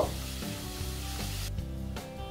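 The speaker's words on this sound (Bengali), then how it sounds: "তো ডালগুলো একটু নেড়ে ছেড়ে নরম করে নিচ্ছি" Masoor lentils are stirred in a hot pan to soften them. A steady, close sizzle runs throughout with rhythmic scraping strokes of the spoon every half second or so, and no voices.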